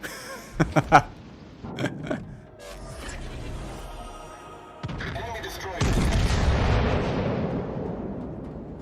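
Warship gunfire in the naval battle game World of Warships Legends: a few sharp, loud cannon shots early on, then heavy rumbling blasts and booming explosions that swell toward the end, with no talking.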